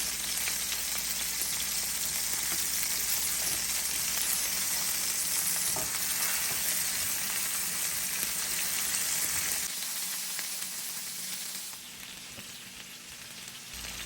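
Fish browning in a hot pan for a Greek-style fish with vegetables, a steady bright sizzle and crackle that runs unbroken and then eases a little toward the end, with no talking.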